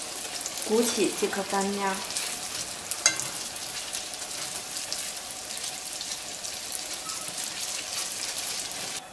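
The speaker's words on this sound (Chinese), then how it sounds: "我们把所有的小饼以此类推，全部炸好" Small dough cakes frying in hot oil give a steady, even sizzle all the way through, with a brief voice speaking early over the crackle.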